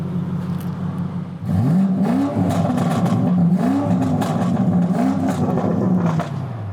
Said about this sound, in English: I believe this one has about 680. I'm gonna let you hear it.